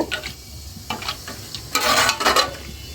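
Garam masala sizzling in hot mustard oil for beef khichuri, with a few soft ticks and a louder, brighter burst of sizzling near the end, close and loud with no talk.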